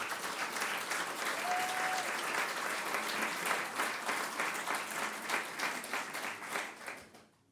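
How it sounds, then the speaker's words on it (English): An audience at an awards ceremony applauds continuously for several seconds, a dense, steady clatter of many hands that fades out at the end. "Just a huge round of applause for Nicole Elkin."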